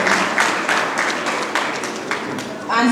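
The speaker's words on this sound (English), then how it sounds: "A round of applause for her, please," Continuous audience applause at a primary school debate event in Ogun, a steady dense wash of clapping with a few louder claps standing out and a voice coming in at the end.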